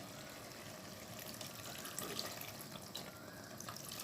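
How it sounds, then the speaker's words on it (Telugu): Water and tamarind juice are poured into a cooking pot for a tamarind stew, making a continuous soft splashing and trickling pour that stays steady and fairly quiet from start to finish. "చింతపండు అండి రసం తీసుకుని ఇందులో పోస్తాను నేను"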